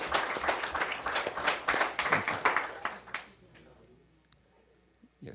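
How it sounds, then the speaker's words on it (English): Applause for the Cherokee Bluff track team at a school board meeting, a burst of many hands clapping for about three seconds that fades into a quiet room with faint talk. "One more round of applause."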